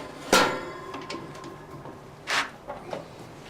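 A grill insert is pushed into a generation 2 wood-fired oven and smoker and latched shut, giving a sharp metallic clack followed by a second clunk and a few lighter taps, close and alone.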